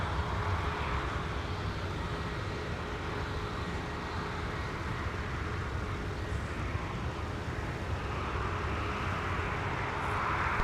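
Delta Boeing 737-900ER taxiing toward runway 17 at Minneapolis–Saint Paul airport in winter, bound for Denver: a steady, fairly faint engine rumble and whine holds evenly throughout, distant and unbroken.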